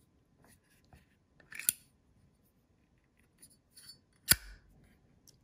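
Zippo lighter with a glow-in-the-dark skull and crown design, its metal lid snapping open with a sharp click and later shutting with a louder clack, close up in a quiet room with a few faint handling ticks.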